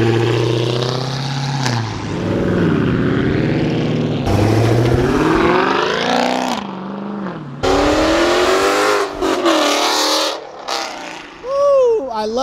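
A loud, powerful Dodge Hellcat V8 engine roars and revs repeatedly at a car meet, pitch sweeping up and down as the car accelerates and passes close by.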